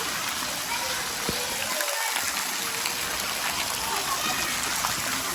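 Heavy rain pours steadily over a Pakistani village in Punjab, a dense, even wash of falling water close by with a voice speaking over it.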